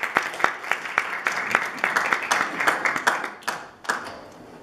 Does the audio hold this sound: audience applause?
yes